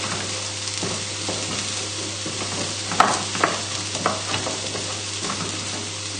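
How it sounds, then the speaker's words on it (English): Milk being stirred into creamed leeks in a pan, a soft continuous scrape and gentle sizzle with a few louder clinks of the spoon against the pan, close and steady under a faint background hum. "So just a good dollop of milk and then stir it in."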